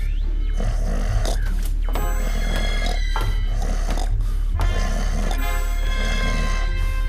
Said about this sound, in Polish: On chrapie tak głośno jak ty.